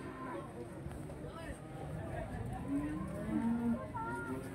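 Simmental cattle at a livestock market low with several drawn-out moos, fairly faint, over a busy background of market chatter and voices.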